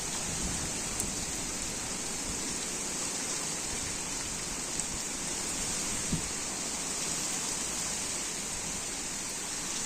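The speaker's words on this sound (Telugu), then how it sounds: "గాలితో వస్తుంది, మేఘాలతో ఎట్లా వర్షం పడుతుంది చూడండి." Heavy first rain of the season falls with wind in a steady, dense roar that continues without a break, with a few faint knocks standing out.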